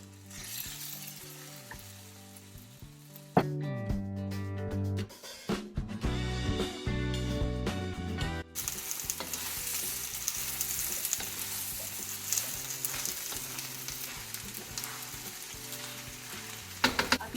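Macaroni pasta with ketchup fries in a pan with a broad, steady sizzle that grows louder in the second half, with occasional stirring scrapes and background music throughout.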